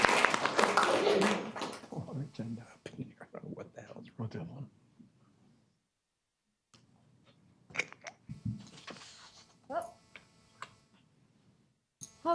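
Scattered handclaps from a small audience at a city council meeting, opening as a dense burst of clapping that thins to sparse claps and fades out within a few seconds, with brief murmurs and room noise after.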